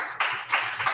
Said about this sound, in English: Audience clap if you want one more trial.